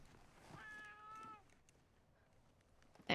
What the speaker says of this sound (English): You can hear the cat meowing.